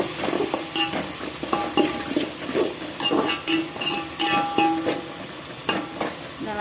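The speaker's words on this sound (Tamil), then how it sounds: "ரெண்டுத்தையும் நான் இப்போ ஆட் பண்ணதுக்கப்புறம் கொஞ்சம் வதக்கிக்கிறேன் நல்லா" Turmeric and coriander powder fry in hot oil for a tamarind okra curry, a close, steady sizzle broken by repeated scraping stirs of a spoon against the pan.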